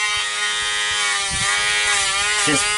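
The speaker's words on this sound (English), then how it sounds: "I'm barely touching that Dremel to the nail." A Dremel rotary tool grinding a dog's mixed nails smooth: a continuous loud, close electric whine with a steady pitch, brief rougher grinding bursts as the bit lightly touches the nail.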